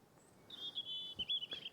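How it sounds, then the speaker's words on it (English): A robin sings in quiet woodland, a thin high warbling phrase that rises and wavers for about a second, clear against a soft, still background. "you can probably hear the robin singing behind me"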